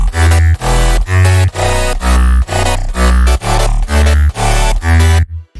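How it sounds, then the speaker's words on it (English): Deep synth bass line playing a counter melody beneath chords in an electronic track, pulsing in steady, even notes, loud and upfront with no talking. "I made a melody that was just bass line that was a counter melody to the bass to the chords"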